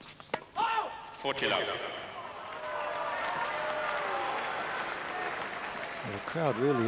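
Tennis crowd at a Chang versus Henman match in Australia, 1997, breaking into sustained applause and cheering that swells and holds steady across the stands, with a commentator's voice briefly heard near the end.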